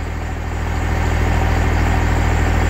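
Engine idling steadily through a straight exhaust with a 4-inch downpipe and no muffler, a loud, constant low rumble that swells slightly after the first second and holds alone with no talk.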